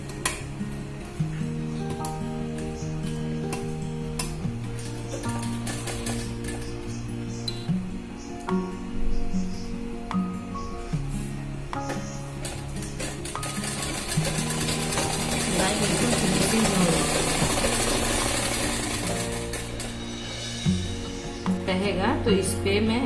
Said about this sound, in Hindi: ये बड़े वाले हिस्से को ऐसे मैं इसके ऊपर बैठा कर सिलाई चलाऊंगी